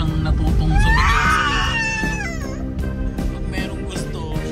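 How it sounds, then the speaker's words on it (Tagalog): A baby screams and wails in loud, rising cries that slide up and down in pitch, then tapers off into softer noises while background sounds continue. "Bakit sigaw ng sigaw yung bata na yan?"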